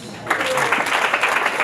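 Wedding audience applause with cheering voices, a steady dense wash of clapping that swells in after a brief pause and holds loud throughout, with a voice briefly rising over the crowd.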